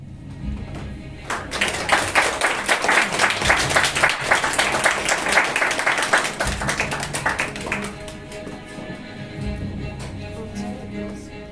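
An audience applauding a student recitation at a school event marking the 150th anniversary of liberation from Ottoman rule. Loud, dense clapping swells within a second, holds for several seconds, then drops away, leaving a quieter room.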